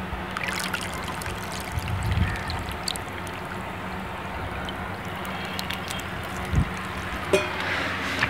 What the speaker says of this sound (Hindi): तो अब मैं इसमें पानी जो है वो डाल दूँगा।